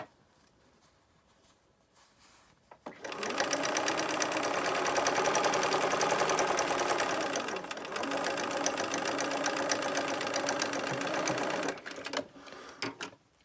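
A sewing machine stitches fabric in a fast, steady mechanical whir that starts abruptly after a quiet lead-in, keeps running close and loud for several seconds with a brief slowdown midway, then stops.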